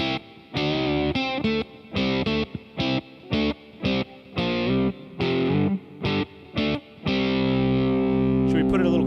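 Electric guitar played through a Boss Katana MkII amp on a 60s fuzz setting modeled on a Fuzz Face: thick, buzzy, distorted chords in rhythmic stabs with short gaps, ending on a long sustained chord.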